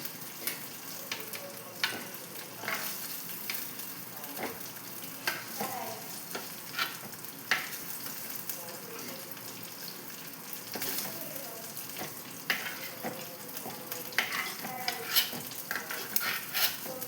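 Squid roast fries in oil and is scooped out, with a continuous bubbling sizzle broken by repeated scraping and clinking of a utensil against the pan.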